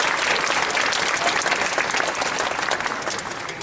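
A crowd at a Jack Hanna animal show at SeaWorld Orlando applauds for an Amur leopard, loud, dense clapping holding steady for several seconds before easing slightly at the end.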